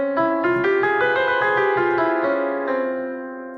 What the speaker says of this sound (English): This maqam is called maqam Hijaz Ka.